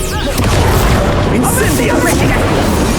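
A Bombarda explosion spell from the video game Hogwarts Legacy bursts loudly amid a duel, with booming blasts and crackling magical effects under voices.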